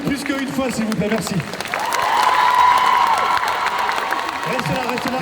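Sustained applause and cheers rise from the audience at a group cosplay contest, a steady wash of clapping with a host's voice heard over it at the start and end.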